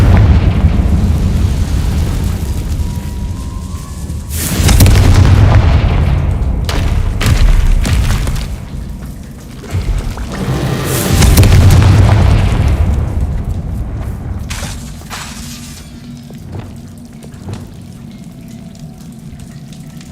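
Confringo fire-spell blasts from the game Hogwarts Legacy burst as two heavy booming explosions with rumbling tails, separated by a stretch of lighter crackles and debris clatter.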